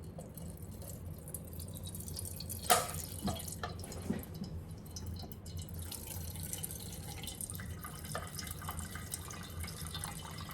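Liquid candle wax being poured into a container for a fruit-salad-themed candle, a steady trickling pour with a sharper splash near the start, close and fairly quiet over a low background hum.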